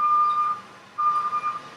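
A steady, mid-pitched electronic beep sounds twice: a long tone, a short gap, then a second tone that breaks into shorter pulses. It is clear and fairly loud over a quiet room, with no talking.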